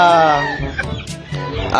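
A rooster crows loudly up close, a harsh drawn-out call, followed by a few shorter squawks.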